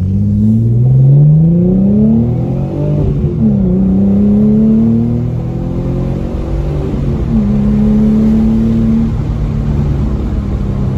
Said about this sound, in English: You can hear the turbo spool up.